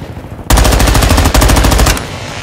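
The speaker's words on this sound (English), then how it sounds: "Assault rifle." Assault rifle firing in Modern Warfare II during a Domination match: a loud, rapid automatic burst of closely spaced shots lasting about a second and a half, briefly interrupted midway, then stopping.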